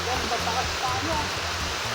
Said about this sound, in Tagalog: nandito po kami sa taas ng waterfalls